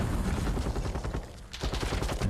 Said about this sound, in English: A lot of gunfire being exchanged, but no bloods just yet.